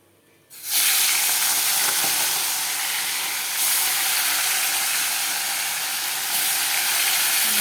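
Fish frying in a pan for a Bengali katla fish and cabbage dish: a loud, steady sizzling hiss starts abruptly after a short quiet moment and continues without break, swelling slightly twice.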